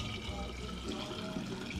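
Liquid pouring into a silver nitrate bath, filling it toward a full liter; a steady, close wash of running liquid with continuous splashing texture and no clear breaks.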